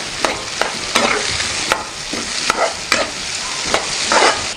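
Onions frying in a pan for a potato fry, with a steady loud sizzle broken by regular scraping strokes of a spatula, close and continuous, no voices.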